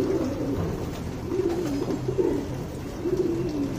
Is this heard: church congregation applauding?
no